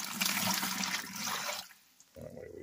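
Water is poured from a container into pureed grapes during homemade wine preparation, a close splashing gush that stops abruptly, followed by a short pause and a softer second trickle.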